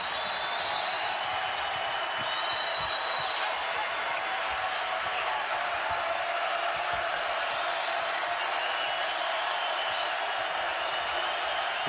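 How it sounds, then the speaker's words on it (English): A basketball crowd at the Dayton arena on its feet, cheering loudly as a dense, sustained roar with whistles and shouts rising over it, steady from start to finish. "Crowd on their feet once again."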